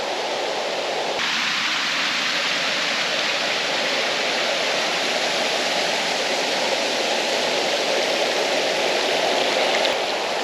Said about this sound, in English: Right down a cliff into the water. Waterfall here. Waterfall over there.